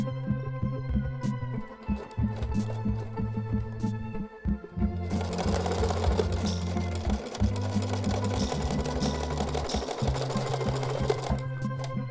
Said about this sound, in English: sew a straight stitch across them to join them together